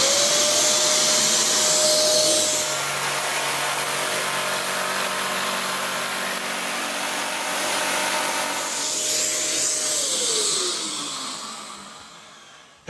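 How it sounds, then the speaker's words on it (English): A Kärcher AD 3.200 ash vacuum cleaner switches on with a rising whine, holds a steady loud roar for several seconds while a power tool works on wood, then winds down as it shuts off. "When you turn on the power tool, it automatically turns on the vacuum."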